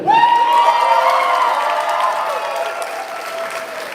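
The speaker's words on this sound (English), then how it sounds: "Another round of applause for our co-best man, Drew." Wedding reception guests applaud after a toast, with a loud, drawn-out whooping cheer riding over the clapping, close and bright at first and slowly fading over four seconds.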